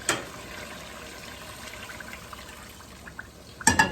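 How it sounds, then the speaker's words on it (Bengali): Hot water poured into a simmering curry makes a soft, steady liquid rush that runs continuously at low volume, ending with a few brief louder splashes and clinks. "একটু গরম পানি আমি দিয়ে দিই"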